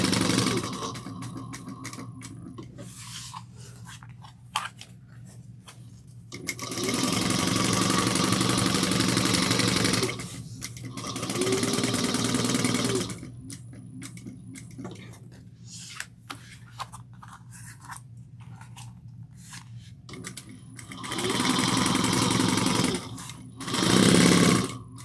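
Bursts of sewing machine stitching through two layers of a tote bag, with backstitching at the start and end, come in several separate loud, close runs, with quiet pauses and handling between them.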